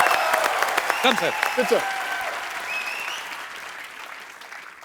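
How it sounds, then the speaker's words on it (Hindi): A television comedy studio audience applauds loudly, the clapping tapering off gradually while someone speaks briefly over it. "जोरदार तालियां यार, जोरदार"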